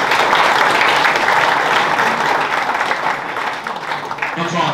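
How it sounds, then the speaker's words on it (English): Applause from an audience at a football club fans forum, dense and sustained. It is loud and close throughout and tapers slightly near the end. "Little round of applause."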